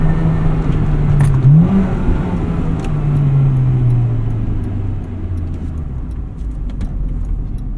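A 1998 Acura Integra Type R works its engine through downshifts with rev matching. The engine note rises sharply, blips and settles, then drops in pitch as the car slows. The sound is loud, close and continuous, with no talk.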